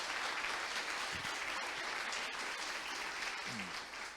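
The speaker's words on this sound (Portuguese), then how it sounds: "Salva de palmas" Audience applause follows a technical talk on mutation testing, a steady, moderately distant clapping from a room of listeners that carries on evenly and eases slightly at the end.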